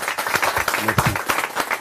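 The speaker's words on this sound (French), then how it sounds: "on l'applaudit très très fort s'il vous plaît." An audience claps at a lively public gathering, with dense, uneven applause that persists while voices talk and call out over it.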